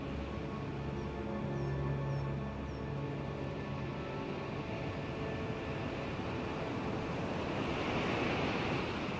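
Surf breaking steadily on a sea turtle nesting beach, a continuous broadband wash of waves rolling in with some wind across the microphone, with no voices.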